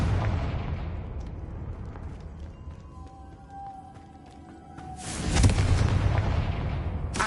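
In a Hogwarts video game, a Confringo blasting spell sets off a loud rumbling explosion that fades away, then a brief high tonal shimmer, and finally a second heavy boom bursts out and rolls on.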